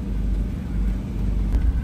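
A steady low engine rumble of a car with a K24 engine moving along in rain, continuous and close, with no speech.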